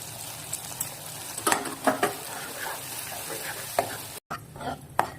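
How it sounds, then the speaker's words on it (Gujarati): Gravy for a whole-brinjal Gujarati curry sautés in oil in a pan, a steady sizzle and frying hiss with occasional spoon scrapes and stirring knocks close by. "ગ્રેવીને સારી રીતે સાંતળી લેવાની છે આપણે. જ્યારે તેલ છૂટું પડે ત્યાં સુધી આપણે એને સાંતળી લઈશું."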